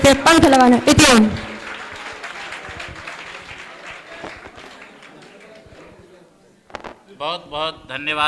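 Audience applause follows a young brahmachari's speech at a Vedic function, a loud burst of clapping that fades into scattered claps, with speech before and after.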